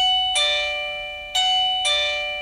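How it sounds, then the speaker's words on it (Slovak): A cheap smart doorbell chime bought on Temu rings three times in a row, each bright metallic tone striking sharply and ringing out loudly before the next press cuts it off, indoors near the unit. "Zvonček zvoní, ale mne neprišla žiadna notifikácia do telefónu."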